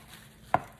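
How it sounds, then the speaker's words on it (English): A single sharp knife chop through spinach on a cutting board, one close, clear stroke on an otherwise quiet counter. "we're going to chop up our spinach"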